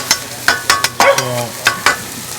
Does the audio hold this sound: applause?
no